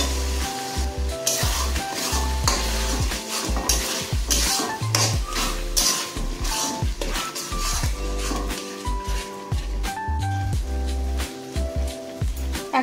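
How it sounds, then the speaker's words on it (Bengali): Spice paste with cumin paste and ground coriander frying and stirred in a pan for chicken curry: steady sizzle with repeated spoon scrapes and clinks against the pot, close and continuous throughout. "মশলাটাকে ভালো করে কষিয়ে নেব।"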